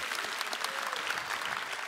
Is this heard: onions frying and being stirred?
no